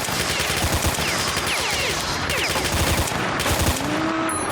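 Submachine gun fire from a PP Bizon in the shooter S.T.A.L.K.E.R.: Shadow of Chernobyl, dense rapid bursts cracking continuously with overlapping shots and ricochet-like whines over several seconds, loud and close.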